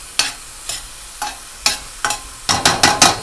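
Onions sizzle in a pan while a spoon pushes them around, a series of scraping strokes landing roughly every half second, then quickening into rapid back-to-back stirs near the end.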